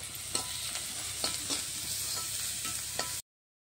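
Chopped onions with turmeric powder frying in oil in a pan, giving a continuous close sizzle broken by regular stirring strokes that cuts off abruptly, with no talk.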